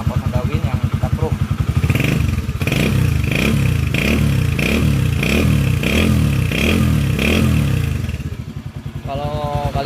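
A restored Honda Win 100 motorcycle idles and revs through a chromed exhaust, close and loud with a rapid pulsing beat, while someone talks over it.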